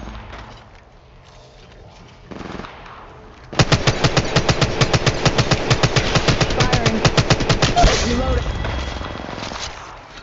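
Automatic weapon fire in the mobile shooter Apex Legends Mobile: after quieter game ambience with a single thud, a long, rapid, even burst of loud shots runs for several seconds, then fades into rumbling echo.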